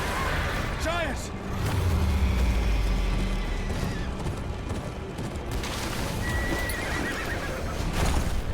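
Horses neigh and whinny amid clopping hooves, rumbling booms and battle noise in the Game of Thrones: Kingsroad video game, loud and dense, with voices shouting over the din.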